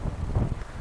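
Low wind buffets the microphone outdoors, a steady rumbling gust noise with no voices.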